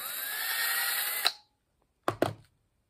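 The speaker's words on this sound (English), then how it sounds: "And we'll drill that hole." A power drill whines steadily for over a second as it bores a hole in wood for a dado setup, then cuts off, followed by two quick knocks of handling noise.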